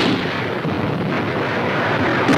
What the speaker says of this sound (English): The motion picture camera has never been closer to the deadly fire of enemy guns